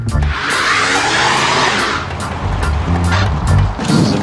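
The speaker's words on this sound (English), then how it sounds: "Into the box for the J-turn. J-turn. And brake flick!" A Lincoln Continental Mark IV's tires squeal loudly through a J-turn and brake flick, a sustained rubbery screech over engine noise that wavers and flares again near the end, with no talking.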